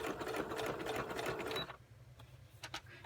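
A sewing machine stitches a fabric pocket in a rapid, even mechanical patter for about a second and a half, then stops, leaving faint clicks and quiet handling.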